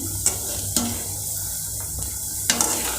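Urad dal vadas frying in hot oil, a constant close sizzle and bubble broken by a few sharp clicks of a utensil against the pan.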